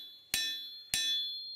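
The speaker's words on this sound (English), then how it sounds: "keeping my hammer blows consistently on both sides" A hammer strikes a steel blade being forged, two loud ringing metallic blows about half a second apart with a third beginning, each leaving a bright sustained ring.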